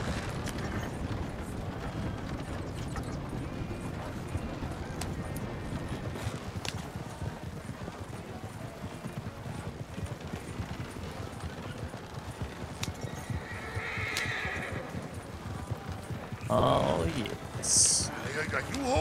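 Horse hooves clop steadily across the ground while riders travel together in the Western video game Red Dead Redemption 2, a continuous drumming under ongoing talk.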